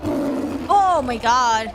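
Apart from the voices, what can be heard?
warbird cry sounding like a lion's roar, from the video game Ace Attorney: Spirit of Justice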